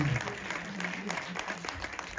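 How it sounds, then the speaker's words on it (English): Audience applause at a book launch, a soft, fairly distant spread of clapping from a small gathering, with a faint voice near the start. "another round of applause for Yolanda."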